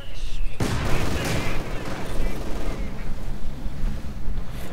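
Heavy MG42 machine gun fire in the Company of Heroes 2 video game, a dense, continuous roar of battle noise that begins with a sharp onset and stays loud throughout.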